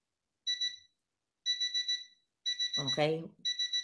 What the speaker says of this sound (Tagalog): bakit naka-alarm ang hotel